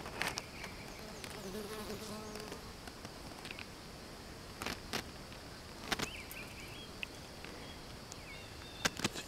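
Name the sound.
bee buzzing at a zucchini flower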